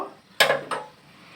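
A metal lid handled on a pan of frying fish in a home kitchen, giving two close clinking knocks in quick succession, the first sharper, then a short fading rattle.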